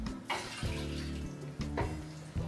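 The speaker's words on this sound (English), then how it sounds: "I'm going to add the tomato and the inexpensive white wine." Tomato and inexpensive white wine are poured into a pot for bouillabaisse, giving two or three short splashing, gurgling pours close by with brief gaps between them.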